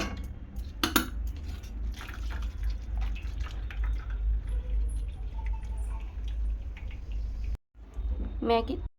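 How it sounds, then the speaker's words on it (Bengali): Water draining out of a pot of boiled Maggi noodles, a steady trickle and drip with metal pot clatter and people talking quietly throughout. "ম্যাগির জলটা ভালো করে ঝরিয়ে নেব।"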